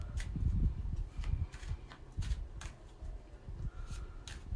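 Oracle cards shuffled by hand in a quiet room, giving soft, irregular papery riffles and taps in short bursts, close and fairly faint.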